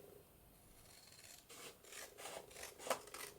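Scissors or a blade cutting through paper for an altered book craft, a quiet close rasping that begins faintly and grows into several short rhythmic snips, no talking.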